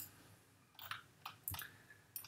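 Several sharp computer mouse clicks while working in Fusion 360 CAD software, spaced irregularly and close, with quiet room tone between.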